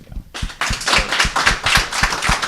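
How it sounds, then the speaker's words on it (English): A small audience at a panel on digital comics platforms claps steadily. The applause is loud and close, with a few sharp claps at the start and then continuous clapping throughout. "Keep clapping the whole time."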